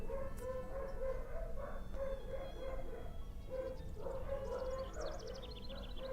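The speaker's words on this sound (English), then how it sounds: "Please forgive my dogs. They know not what they say." Several dogs bark and yip in irregular bursts over a steady background hum, fairly distant and muffled, with higher whimpering yelps toward the end and no clear talking.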